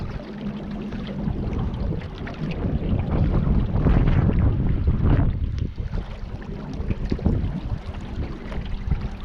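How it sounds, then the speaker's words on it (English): Steady gusty wind roars over the microphone while out on the Colorado River near Hoover Dam, a dense continuous rush with faint water and boat noise beneath, no voices. "See, now we got the wind to our backs, which is going to help us."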